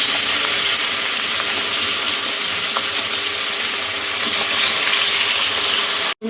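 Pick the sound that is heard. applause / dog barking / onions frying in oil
onions frying in oil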